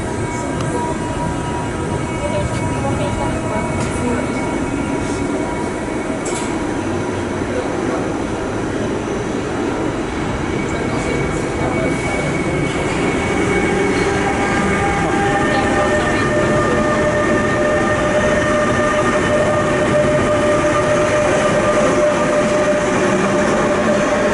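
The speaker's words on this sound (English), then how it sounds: "Is that our train we're approaching?" A passenger train draws in alongside a station platform in the Netherlands, a steady loud rumble of wheels on rails with rising tonal whines and squeals building over time, with faint voices in the background.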